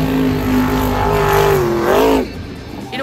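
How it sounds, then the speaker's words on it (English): Avenger monster truck engine with upward-facing mufflers revving loud and close, a sustained roaring drone with rising and falling pitch for about two seconds, then dropping off abruptly to a lower idle with a brief final rev. "In a world where most trucks that have mufflers sound almost identical to one another, Kohler's unique setup helps him stand out"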